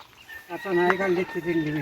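A chicken clucks briefly and fairly close among garden plants near a house in Ratnagiri, a short run of throaty calls.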